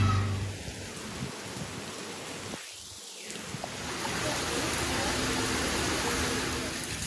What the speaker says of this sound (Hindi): ना लाइट आ रही है ना बारिश रुक रही है